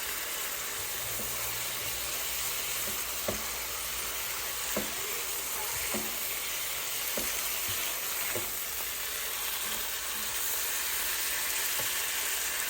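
Pork menudo sizzling in a pan, a soft, steady frying hiss punctuated by the occasional tap and scrape of a spoon stirring the pan, fairly faint and without talk.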